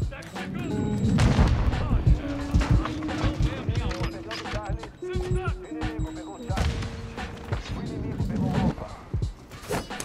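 Sniper rifle shots ring out in a samurai-themed video game, several sharp booms and impacts scattered among game effects, while someone talks excitedly over them.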